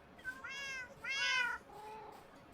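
Cats in the video game Minecraft give two clear, drawn-out meows close together, then a softer third mew, alone against a quiet background.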